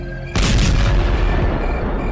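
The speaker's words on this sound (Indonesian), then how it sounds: "tiba-tiba terdengar suara ledakan dari depan rumahnya" A single loud explosion goes off in front of a house, a sudden heavy boom followed by a long rumbling decay.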